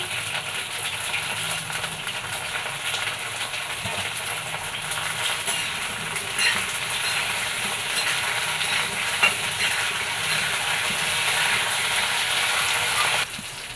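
Eggplant (brinjal) sautéing in a pan for a curry: a steady, close sizzling hiss with faint stirring scrapes, continuing unbroken throughout with no voices.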